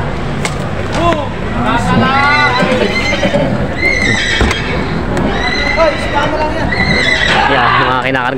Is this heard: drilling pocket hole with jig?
no